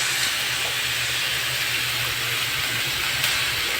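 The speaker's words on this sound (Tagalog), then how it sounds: "Kung madaling maluto yung gulay, igisa po natin ito sa mantika" Pakbet vegetables sauté in hot oil, giving a steady, loud sizzling hiss that carries on without a break, close up and free of speech.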